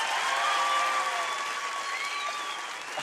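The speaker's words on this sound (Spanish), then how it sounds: "Ahí los dejo con Ron Jairo, un aplauso, pues." Audience applause at a comedy show aboard a cruise, sustained clapping from a crowd heard at moderate distance, steady across the whole stretch and gradually easing off.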